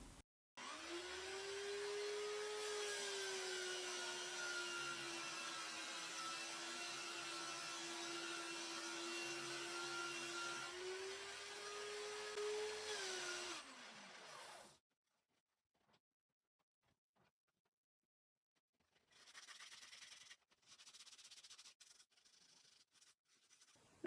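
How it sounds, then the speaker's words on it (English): Final sanding of a turned mossy willow bowl on a woodturning lathe: a steady motor whine with a sanding hiss runs for about fourteen seconds, then winds down into near silence broken by faint, brief handling sounds. "Move my tool rest out the way and give things a final sanding."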